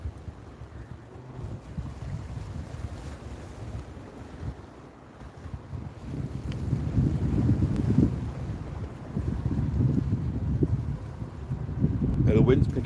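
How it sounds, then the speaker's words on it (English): Storm wind blows at Crystal Beach, a constant rough roar of gusts buffeting the microphone that swells stronger in the second half, with faint voices under it. "The wind's picking up now"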